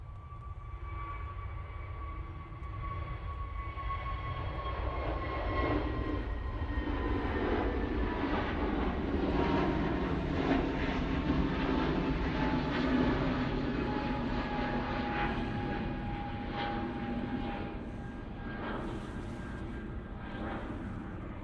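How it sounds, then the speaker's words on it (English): An EasyJet airliner departs Manchester Airport, its jet engines a loud, sustained roar that swells and slowly recedes over about twenty seconds, steady broadband rumble with a faint whining tone. "EasyJet now departing."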